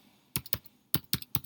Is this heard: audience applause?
no